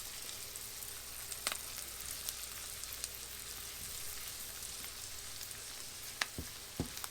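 Onions and garlic frying softly in a pan while being stirred, a steady low sizzle with a few sharp clicks near the end, no voices.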